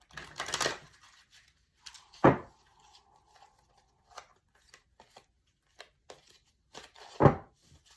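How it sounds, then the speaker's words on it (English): A few crisp bursts of card shuffling, with a quick riffle at the start and more snaps later, close up amid light tapping and handling noises. "One more shuffle."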